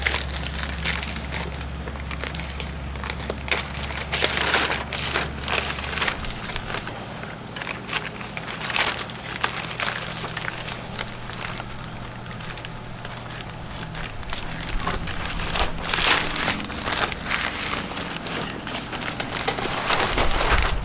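Plastic sheeting being pulled free from the tunnel pole of a high tunnel on a market farm, a long run of crinkling, crackling and tearing rustles that keeps going without a break, close by and moderately loud, with no voices.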